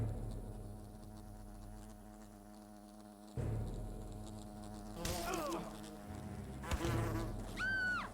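Wasps in the Fable Anniversary game buzzing loudly and continuously, a close swarm drone with wavering pitch, overlaid by brief whooshes and a rising sweep-like swish toward the end.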